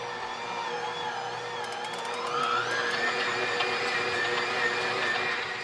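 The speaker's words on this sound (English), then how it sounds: "while the stand mixer is doing all the kneading for me" A stand mixer kneads sourdough bagel dough with a steady motor whine that rises in pitch as the speed is turned up, accompanied by light clicking and knocking from the bowl.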